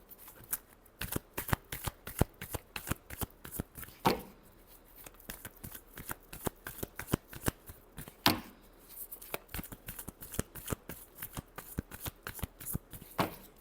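Tarot cards shuffled by hand for a reading, a long run of crisp riffling and slapping bursts in irregular rhythm, close and fairly quiet.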